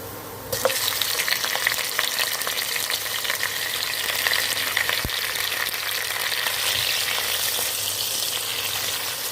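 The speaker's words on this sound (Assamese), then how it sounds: "পিঁয়াজখিনি ৰঙাকৈ ভাজি লওঁ।" Onions hit hot oil in a pan for chicken biryani and break into a loud, even frying sizzle that holds steady to the end.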